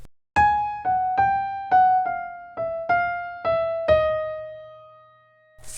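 A short jazz line of separate, bell-like struck notes, about eight of them, each decaying, stepping chromatically around G and closing on a longer sustained tone, played solo and clear with no talking.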